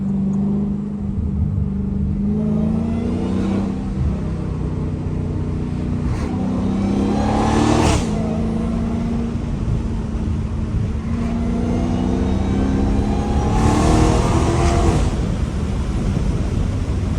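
Dodge Challenger SRT Hellcat accelerating through city streets, its deep V8 rumble loud and close throughout, rising in pitch with repeated revving surges and gear changes.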